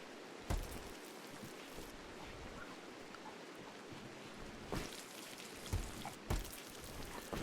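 Steady rain falls in the RimWorld video game, a continuous soft hiss of drops with a few louder splashes or clicks breaking through at intervals, heard alone with no talk.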